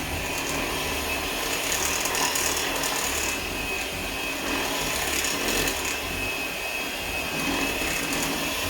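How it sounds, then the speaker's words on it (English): Electric hand mixer beating a Swedish nut cake batter in a bowl, a steady loud whirring drone with faint scraping rattles running the whole time, no pauses. "I know this makes a lot of noise. And I could have used my KitchenAid, but it's much easier using the hand mixer."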